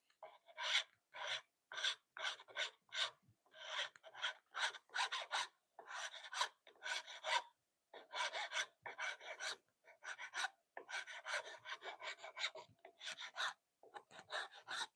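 Hand file rasping a workpiece in a home workshop: repeated short, bright strokes in a fairly steady rhythm, each separated by brief silence, close and clear with no talk.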